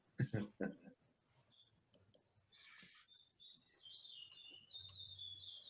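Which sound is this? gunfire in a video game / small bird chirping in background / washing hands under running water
small bird chirping in background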